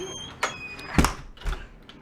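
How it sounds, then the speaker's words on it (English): An indoor house door is pushed shut with a solid thump and latch click, followed by a smaller knock half a second later, heard fairly close in a quiet room. "Let's shut this door."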